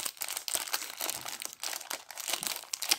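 A foil trading card pack wrapper is torn open and crinkled up close, with continuous sharp crackling and rustling that comes in quick uneven bursts.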